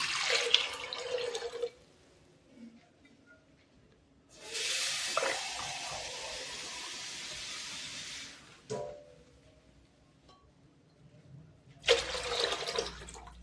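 Water pours into a pressure cooker for tomato dal curry in bursts, a few seconds of steady splashing broken by quieter gaps, then another short pour toward the end.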